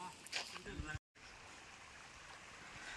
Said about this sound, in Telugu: ఫాల్స్ ఉన్నాయి పక్కనే, వాటర్ వెళ్తున్నాయి